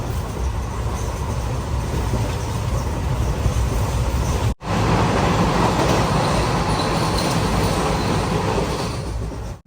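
An express train runs through a small tunnel with a continuous loud rumble of wheels and rails, broken by a brief sharp dip midway before the roar resumes.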